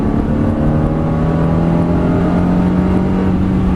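A Ferrari accelerating on a race track with a young driver at the wheel, a loud, close engine roar holding a steady rising tone for a few seconds, with no voices over it.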